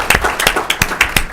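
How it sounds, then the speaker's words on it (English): A small audience at a county board of commissioners meeting claps for a longtime county employee, with scattered, uneven hand claps over a few seconds at moderate loudness. "I'd like to give him a round of applause."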